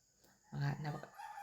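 A single chicken call rings out briefly at moderate distance, a short crowing cry against quiet outdoor background.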